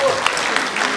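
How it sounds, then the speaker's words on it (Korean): A crowd at a book launch celebration applauds in a brief, dense burst of clapping, with voices mixed in. "그냥 박수로 다시 한번 환영해 주시기 바랍니다."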